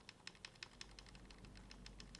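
A series of quiet, evenly spaced arrow key taps on a computer keyboard while moving a clip in Blender video editing on AmigaOS 4.1, about a dozen light clicks in quick succession over a faint background hum.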